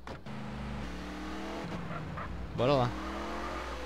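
A car engine hums steadily in GTA San Andreas, close and continuous, while someone talks over it.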